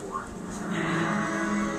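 A single long, low cow moo drones steadily for a couple of seconds over faint outdoor background noise, fairly close.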